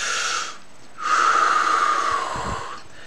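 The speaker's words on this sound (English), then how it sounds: "Take a deep breath." Close, breathy inhalations: a short intake, a pause, then a long drawn-in deep breath with a hissing, slightly wheezy edge that fades out.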